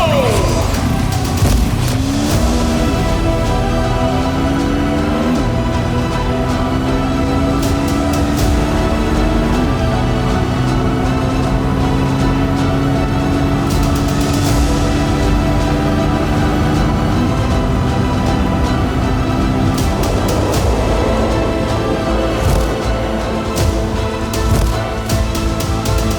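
Hero Xtreme 250R and Bajaj Pulsar N250 motorcycles drag racing, engines revving loud and close through a launch with rising gear-change tones, steady throughout, with people talking over the run.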